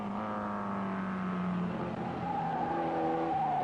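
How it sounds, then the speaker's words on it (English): Racing cars from a 1962 sports car race at the Mosport circuit roar through a corner, engines droning and pitch shifting as they pass, with no talk. "the leaders are beginning to overtake the field of slower cars"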